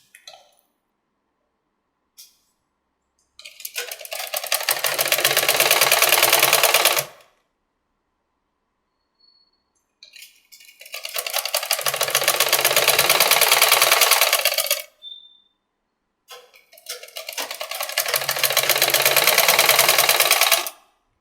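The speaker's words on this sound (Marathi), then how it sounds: "आधी एक सिंगल शिलाई देऊन घेऊया आधी एक." An electric sewing machine stitching a sleeve whirs in three separate runs of about three to four seconds each, starting with a few brief taps, close and loud with silent pauses between them.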